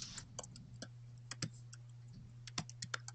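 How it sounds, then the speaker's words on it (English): Faint keystrokes on a computer keyboard, a loose scatter of light clicks over a steady low electrical hum. "and I'll just type this on here"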